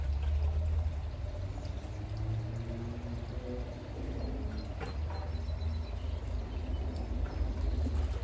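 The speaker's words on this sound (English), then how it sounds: "Let me put it in get some pool water in the bucket." Pool water gurgles and pours into a bucket at a gunite pool being started up outdoors, a steady close rushing fill lasting several seconds with no one speaking.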